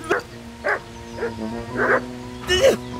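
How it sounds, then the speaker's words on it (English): Dog in the medieval RPG Kingdom Come: Deliverance giving several short barks and yips in an irregular run, fairly close, with a voice talking over part of it. "Piss off, dog!"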